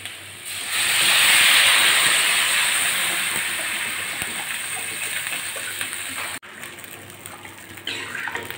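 Water poured into a hot pan of turmeric and spices for a katla fish curry bursts into a loud hiss and steam, then settles into a steady, slowly fading sizzle that cuts off sharply near the end.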